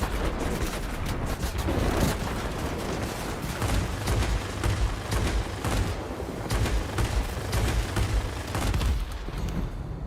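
Anti-aircraft guns in World of Warplanes keep up a dense, steady barrage, with rapid overlapping bursts and low rumbling booms layered over engine drone throughout.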